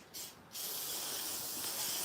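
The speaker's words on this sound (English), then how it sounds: "I'll spray some Lysol." Lysol aerosol disinfectant spray hissing indoors in a home, a short burst followed by a longer continuous spray, close and fairly loud.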